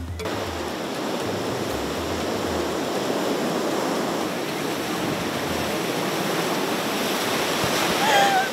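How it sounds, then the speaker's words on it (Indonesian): Big ocean waves crash and surge over a slippery, holed coral reef on a southern sea coast, a loud continuous roaring wash of surf close by with no voices. "Yang namanya ombak yang besar yang kita harus mundur, ini kayak gini rasanya."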